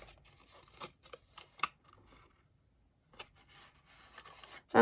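Scissors snip through card for a Halloween and Christmas lidded gift box, giving a handful of crisp, close snips and rustles, a brief quiet gap, then another run of cuts ending in a sharper click, with no talking.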